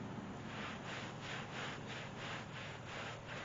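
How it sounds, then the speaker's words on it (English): Hard-bristle broom scrubbing a soapy area rug at home, a soft rhythmic rasping of repeated back-and-forth strokes, steady and fairly quiet with no talk. "And then just start scrubbing."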